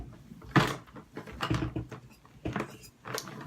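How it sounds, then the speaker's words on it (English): Several short hissing pumps of Morphe setting spray onto a makeup brush, close and fairly quiet, separated by brief pauses. "I'm gonna go in with my Morphe setting spray."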